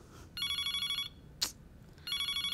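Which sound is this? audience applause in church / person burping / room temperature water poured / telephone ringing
telephone ringing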